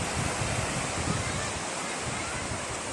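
Sea waves wash steadily onto a beach in a broad, continuous roar, with wind buffeting the microphone and no clear talk.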